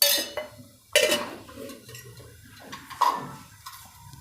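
A spoon mixes oiled chickpea flour dough for chana bhakhari in a metal bowl, giving a few loud close clanks against the rim between quieter scraping strokes.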